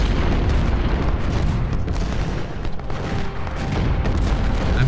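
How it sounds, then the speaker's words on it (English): An artillery bombardment from the Ultimate General: Civil War video game at the Battle of Stones River, a dense, continuous rumble of overlapping booms and volley fire. "plus an artillery bombardment of I mean, it's just massive amounts of artillery."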